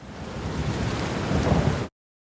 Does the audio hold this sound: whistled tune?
no